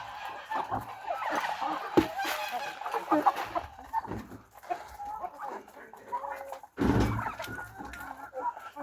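Orloff chickens cluck and chatter continuously nearby, a busy flock with occasional louder squawks and some background voices.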